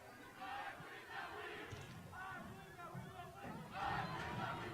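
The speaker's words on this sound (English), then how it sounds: "what student body there is across the way, about 20 of which are trying to make as much noise as they possibly can for the home Panthers" About twenty students in a small crowd yell and cheer from across the field at a girls' high school soccer game, distant bursts of shouting rising and falling over a low murmur.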